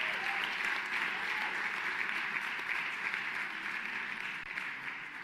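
An audience at a national voice competition breaks into sustained applause, a dense, even wash of clapping from a crowd that holds steady and tapers only slightly toward the end.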